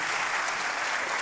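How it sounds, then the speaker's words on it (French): A conference audience at a science week event in November applauds a professor after his talk. Thick, continuous hand clapping fills the hall at a steady level, with no individual voices standing out. "Je pense qu'on peut applaudir le professeur Ben Makhlou."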